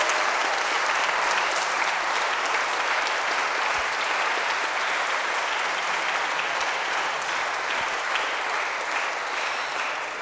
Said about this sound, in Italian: cominciamo con un bel applauso. Un applauso per tutti voi